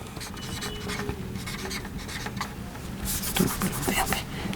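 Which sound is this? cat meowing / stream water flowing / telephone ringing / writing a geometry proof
writing a geometry proof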